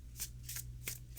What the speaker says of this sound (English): They don't cut shuffle too easily.